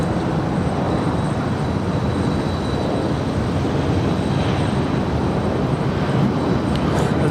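A DHL Airbus A330-200 freighter aborts its landing at LAX and goes around, its jet engines producing a loud, steady, broad roar that holds throughout.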